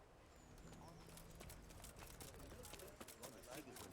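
Horse hooves clip-clop in the medieval video game Kingdom Come: Deliverance, a steady run of close, quiet hoofbeats on hard ground under faint background ambience.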